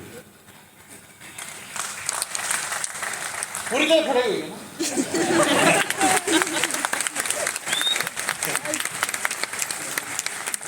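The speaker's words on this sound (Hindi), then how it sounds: "ताली मारनी है तो जोर से" Applause from a crowd at the inauguration of a farmers' fair at GB Pant University, Pantnagar, swells and carries on steadily, with people talking over the clapping throughout.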